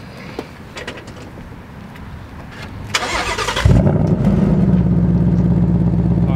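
A 2019 Ford Mustang Bullitt with active exhaust cranks and fires up after some clatter, then settles into a deep, loud, steady idle rumble close by.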